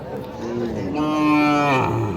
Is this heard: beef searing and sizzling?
no